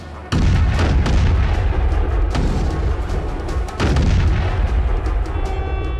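Ship guns open fire in an action movie battle scene against a giant sea monster, a loud barrage of heavy booming blasts that continues without pause, with several sharper cracks standing out over a constant rumbling roar.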